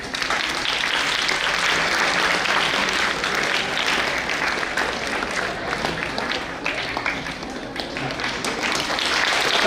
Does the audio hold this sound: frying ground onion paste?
no